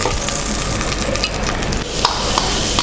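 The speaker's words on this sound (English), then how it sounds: "we are ready to start sauteing our vegetables" An onion sizzles and is stirred in a hot pan while beef stew is being prepared, giving a loud, steady frying hiss with occasional scraping knocks, and no voices.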